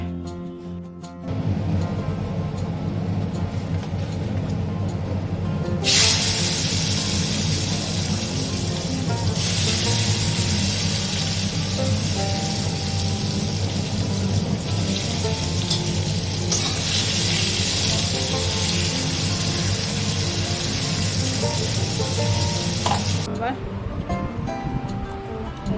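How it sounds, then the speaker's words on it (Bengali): Round potatoes fry in a pan with a steady, close sizzle and occasional stirring, while a voice talks over the cooking throughout. "চলো আলুটা ভেজে নিই, আলুটা গোল আলু ভাজা।"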